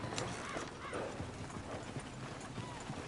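Horses' hooves clip-clop in the Red Dead Redemption 2 video game, a steady rhythm of soft hoof beats with a whinny, fairly faint amid background ambience and some speech.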